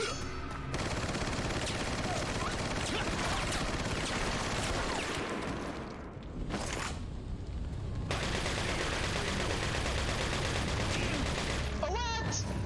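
Rapid bursts of TMP submachine gun fire in Resident Evil 4, loud and sustained with dense crackling shots, a brief lull near the middle before firing resumes, mixed with game ambience.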